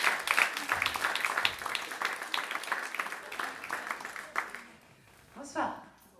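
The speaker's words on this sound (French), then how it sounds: "est-ce qu'on peut donner un applaudissement pour Corinne ce soir?" A church congregation applauds for Corinne during an evening gathering, a dense wash of clapping that fills most of the moment before tapering off near the end, with a brief voice afterward.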